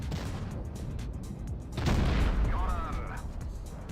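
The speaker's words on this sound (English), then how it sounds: "Okay, he's shooting me." Tank cannon fire from a World of Tanks Blitz match, a heavy boom bursting out mid-clip over steady game noise, with someone talking throughout.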